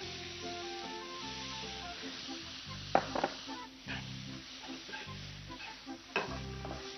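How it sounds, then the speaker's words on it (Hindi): Finely chopped onion sautéing in butter and oil, a soft steady sizzle with a few stirring scrapes and a couple of sharper clicks over a low background hum. "इसे हल्का सा सौते करना है करीब 10 से 15 सेकेंड"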